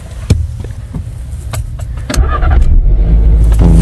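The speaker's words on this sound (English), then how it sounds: "you can hear the engine revving up" A car engine is started with a battery booster: clicks and brief cranking give way to the engine catching and revving into a loud, sustained roar close by.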